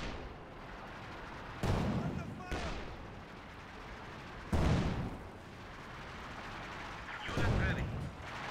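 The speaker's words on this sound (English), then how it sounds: "they're being buried in artillery fire here" Artillery shells landing in a Company of Heroes 2 battle: three or four heavy, spaced booms over a steady bed of battle noise, with commentary talking throughout.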